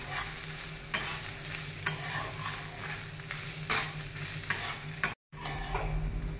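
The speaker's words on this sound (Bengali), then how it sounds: "চালটাকে বেশ ভালো করে নাড়াচাড়া করব।" Rice being stirred in a hot pan for yellow sweet pulao, a spoon scraping and turning the grains with a steady sizzle underneath, repeated strokes with a brief gap near the end.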